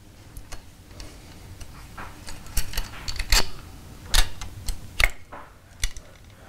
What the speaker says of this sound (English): You're going to take out both the top and bottom bolts with your 8mm T-handle or socket.